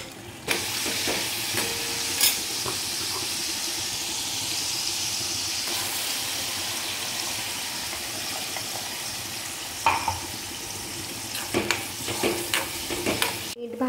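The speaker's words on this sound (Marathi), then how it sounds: "तेल तापले, त्याच्यामध्ये आलं लसूण टाकते." Ginger and garlic fry in hot oil for a paneer biryani gravy, giving a steady, close sizzle with scraping stirs and scattered utensil knocks toward the end.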